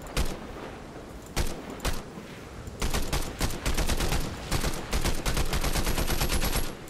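Rapid bursts of gunfire from the video game Fortnite, loud and close, with a few isolated shots early on giving way to sustained automatic-style volleys through the second half, no talking over it.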